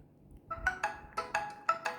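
Test tones from the built-in loudspeaker of a Poco C65 smartphone: a short melodic ringtone-like phrase of separate bright notes, played alone at moderate loudness and sounding somewhat muffled.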